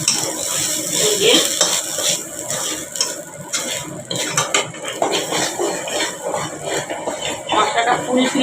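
Fried spices are stirred into khichuri in a metal pot, with loud, close scraping and clanking of a spoon against the pot over a faint sizzle, continuing without pause.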